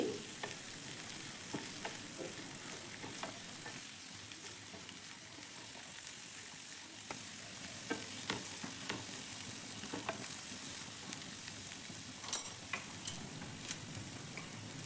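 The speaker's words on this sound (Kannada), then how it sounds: "ಚಿಲ್ಲಿ ಪೌಡ್ರನ್ನ ಆ್ಯಡ್ ಮಾಡಿಕೊಂಡೆ ನೀಟಾಗಿ ಫ್ರೈ ಮಾಡ್ಕೊಳ್ಳಿ" Coriander and chilli powder fry in a pan with a soft, continuous sizzle and light stirring scrapes. Faint, close, with a few small ticks and no voices.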